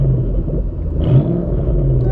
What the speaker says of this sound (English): I got a GoPro out in the rear to hopefully just capture a little bit of exhaust